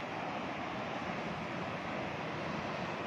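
Waterfall at a temple site pouring water in a continuous soft wash, steady and fairly faint throughout, with no speech over it.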